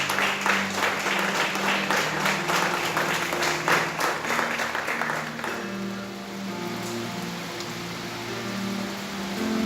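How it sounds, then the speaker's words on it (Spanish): A church congregation claps together after a sermon reading, dense loud applause for about five seconds that then thins out into quieter room noise. "Dale un aplauso a la palabra del Señor."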